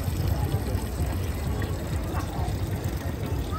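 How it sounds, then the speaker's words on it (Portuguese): Water pours steadily from a bull-shaped fountain at an outdoor chocolate festival in northern Italy, a continuous splashing trickle heard close and moderately loud, with faint crowd murmur in the background. "Nossa famosa fonte de touro, dessa vez de água."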